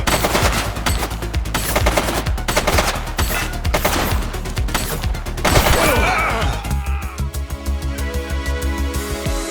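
Loud, rapid automatic gunfire in The Precinct video game rattles in dense bursts for several seconds, then cuts out and leaves a tonal, musical backdrop.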